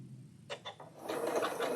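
Sewing machine stitching a wool applique mini quilt: a few soft mechanical clicks, then a brief steady run of quiet stitching.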